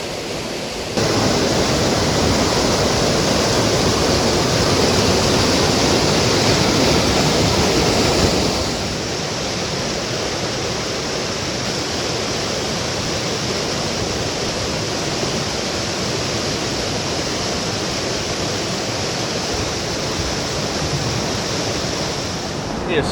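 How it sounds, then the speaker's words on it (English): Unmarked waterfall on the Partridge River roars steadily as a broad, constant wash of rushing water, loud and close, slightly quieter after the first few seconds. "we come to another unmarked waterfall."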